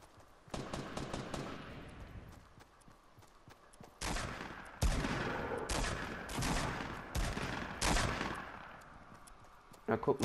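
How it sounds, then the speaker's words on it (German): Distant automatic gunfire from a Fortnite Battle Royale match rattles in repeated rapid bursts, some longer and some clipped short, fairly quiet but sharp, with pauses between volleys. "So, ich höre schon wieder Schüsse."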